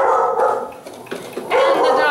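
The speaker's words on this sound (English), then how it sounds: "and the dog is barking." A dog barks in a run of sharp, fairly close yaps and yips indoors, where a machine embroidery project is underway, with a brief lull in the middle before the barking picks up again.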